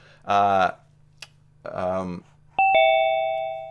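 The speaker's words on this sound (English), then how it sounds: "that's the ding dong when someone comes in the room" Electronic door chime in a room, two sustained ding-dong tones ringing out and slowly decaying after a person speaks over a steady background hum.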